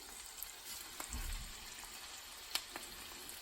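Well-seasoned boneless pork chops frying in a pan in melted fat, a faint steady sizzle with a few soft clicks and a low thump near the start, no talking.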